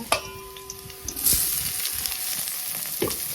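Radish greens hit hot oil in a pan with a sudden sizzle that settles into a steady close crackle, with a few stirring scrapes and clatters.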